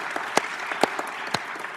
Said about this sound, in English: I think they deserve a nice round of applause.